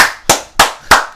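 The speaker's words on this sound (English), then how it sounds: "Stop clapping!" Three sharp claps in a slow, even rhythm, loud and close, with no talking.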